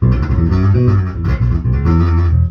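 Electric bass guitar through a P bass pickup plays a bouncy line of round, punchy low notes, steady and fairly loud, with no voices.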